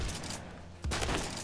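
Heavy KS-23M shotgun blasts in the Phantom Forces video game, a dense burst of loud gunfire with a second booming shot near the end, no talking.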